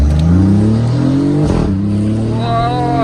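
A BMW i8 fitted with a valvetronic exhaust and high-flow catalytic converter revs up close and loud, the engine note climbing in pitch with crackling pops, while someone talks excitedly over it.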